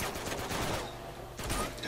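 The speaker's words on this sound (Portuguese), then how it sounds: "Olha todos os tiros, caraças." Rapid gunfire from a firefight in the video game Uncharted crackles in dense bursts throughout, close and continuous with a few louder clusters.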